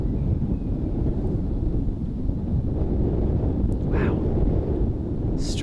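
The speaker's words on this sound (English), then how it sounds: "Strong gusts coming in for Anniken's putt." Strong wind gusts buffet the microphone at a disc golf tournament course, a heavy low rumbling roar that runs throughout, with faint brief sounds breaking through near the end.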